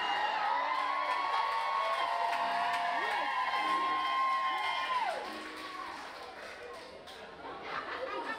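An audience at a burlesque show cheers, whoops and shouts at full volume, then the noise drops back to lively chatter before swelling again.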